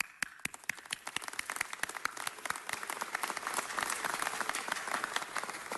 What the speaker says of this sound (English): You indeed deserve our gratitude and certainly a round of applause.